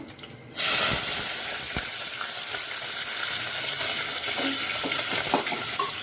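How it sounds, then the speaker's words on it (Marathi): Cumin, asafoetida and curry leaves crackle and sizzle in hot oil, a sudden loud burst of steady hissing that starts just after a quiet moment and continues evenly, with faint spattering pops throughout. "जिरे मोरे कडकड झाले की मग हिंग घालायचं त्याच्यामध्ये कढीपत्ता घालायचा"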